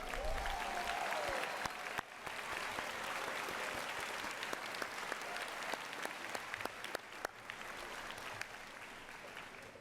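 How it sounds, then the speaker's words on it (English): A large crowd at a Board of Education awards ceremony applauds steadily for about ten seconds, dense clapping with a few louder claps standing out. "How about a big round of applause for Mr. Michael Pipa over there?"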